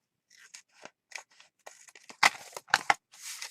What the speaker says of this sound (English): Go ahead and cut this off. Cut this side off too.